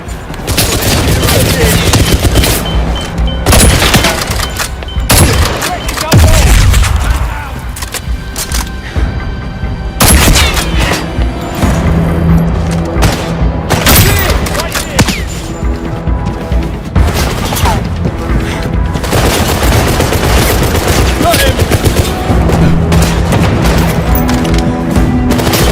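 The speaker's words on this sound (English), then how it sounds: "Grenade! Down!" Heavy gunfire and grenade blasts in the video game 007 First Light, rapid bursts of shots broken by loud booms, with shouted voices mixed in over the chaotic firefight.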